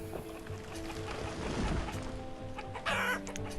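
Clucking chickens in the village-building game Banished, soft scattered fowl calls over a steady ambient bed, with a brighter burst of noise near the end.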